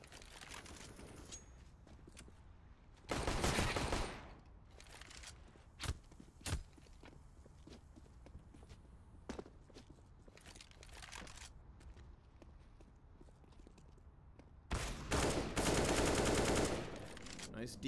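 On the Overpass map in CS:GO, two long loud bursts of automatic gunfire sound, along with scattered single shots and steady footsteps, with a commentator talking.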